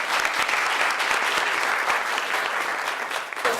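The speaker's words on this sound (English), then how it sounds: "Give her a round of applause" Dense, even applause from an audience at a budget hearing fills the whole stretch, loud and continuous without any talk.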